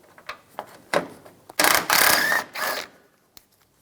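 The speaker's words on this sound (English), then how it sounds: "Using a 10mm socket, take this bolt out." A ratchet turns a 10mm socket to remove a bolt while a 1999-2006 Chevrolet Silverado 1500 front bumper is being replaced. Several short, close clicks come first, then two longer bursts of rapid ratcheting, and a faint final tick.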